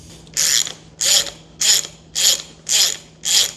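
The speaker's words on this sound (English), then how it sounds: "We're gonna see if we can't pull this thing off of here." Ratchet clicks from a welded homemade puller drawing a sleeve off a flathead V8 crankshaft, six evenly spaced bursts of bright metallic ratcheting about half a second apart, close and fairly loud with no talking.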